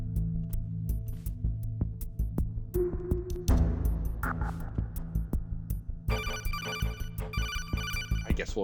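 An incoming phone call rings in the Metal Gear Solid 2 video game, an electronic ringtone repeating in steady pulses over a low game hum, with a shift partway through to denser, higher ringing tones.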